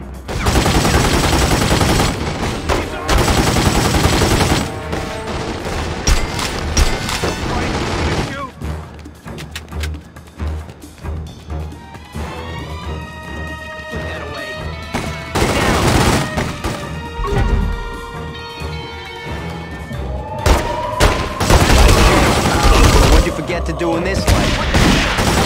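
Gunfire in The Godfather II video game, loud bursts of rapid shots at the start and again near the end, with quieter stretches of game sound and music between, some voices mixed in.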